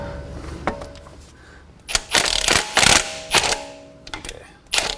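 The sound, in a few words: ratchet loosening strut bolts on a MKVII GTI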